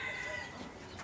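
Chickens on a farm cluck in a soft, scattered run through steady outdoor background noise, with no one talking.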